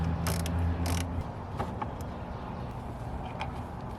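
Ratchet fitted with a 10mm socket turning on a car battery terminal, a few quick metallic clicking bursts at the start over a dull background hum, then quieter faint clicks.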